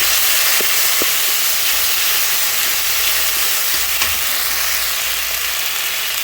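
Ginger and garlic frying in oil after the onions, a dense and loud sizzling hiss broken by a few light stirring knocks, heard up close and steady throughout.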